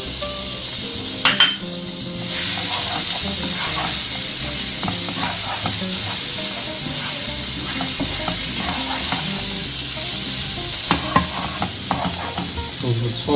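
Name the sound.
garlic sautéing in oil in a pan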